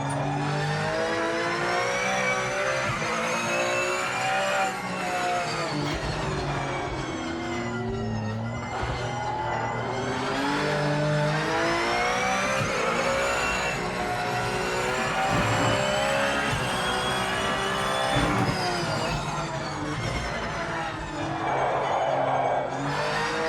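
A racing car engine in a video game, Project Motor Racing, revs and whines continuously, shifting pitch up and down through gear changes, loud and unbroken with no talking.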